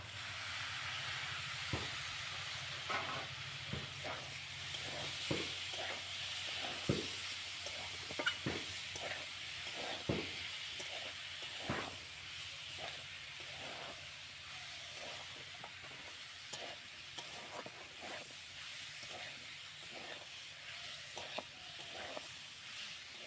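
Ridge gourd hissing and sizzling in a hot pan of oil, a steady frying crackle with scattered sharp pops throughout, fairly quiet and close, no voices.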